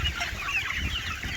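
Chickens and young roosters in a backyard flock cluck and chatter in a dense, continuous murmur at moderate distance, with no talk over them.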